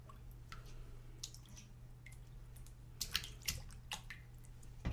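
Water sloshing and dripping quietly as a foot shifts in a small bucket of warm salted water, with soft splashes near the end over a low steady hum.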